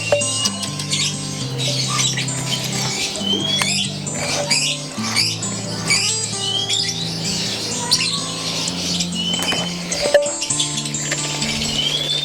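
A caged cucak ijo, or green leafbird, being hand-fed crickets gives repeated squawks, chirps and scratchy calls, close and fairly loud, mixed with small clicks and rustling over a low background hum.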